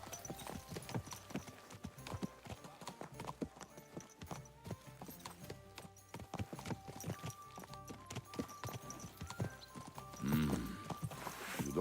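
Horse hooves in the video game Kingdom Come: Deliverance 2 clip-clop in a fast, steady rhythm throughout, with a brief whinny near the end over a low background.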